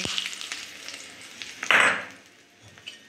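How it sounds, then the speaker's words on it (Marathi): Hot ghee tempered with cumin and a chilli poured onto curd, a sudden loud sizzling burst after a few soft kitchen clinks, then the hiss quickly fading away. "तडका मी आता या दह्यावर टाकते"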